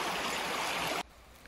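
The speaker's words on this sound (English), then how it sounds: "You could hear the babbling brook." A babbling brook near Zakopane, Poland, a dense, steady rush of flowing water that cuts off abruptly partway through, leaving near silence.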